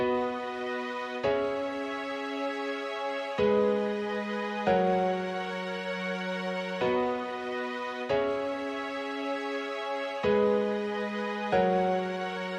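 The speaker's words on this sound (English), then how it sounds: "It's a piano with some strings at the back." A slow, simple piano melody with sustained strings underneath, notes and chords changing every second or so, calm and clear with no voices.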